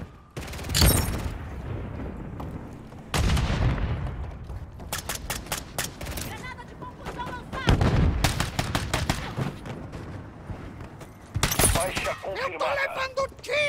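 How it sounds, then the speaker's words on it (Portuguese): Gunfire crackles through a Call of Duty Modern Warfare 3 multiplayer match, with bursts of rapid automatic fire, single sharp shots and booming impacts, loud and irregular, while a player speaks over the battle. "Tô levando tiro aqui!"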